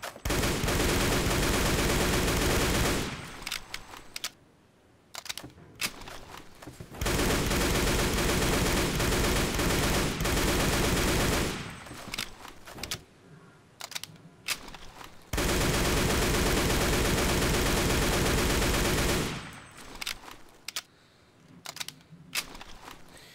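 Automatic weapon fire from Siminov's Day of Defeat: Source weapon mod in Garry's Mod, loud sustained bursts lasting several seconds each, separated by short pauses, with no voices.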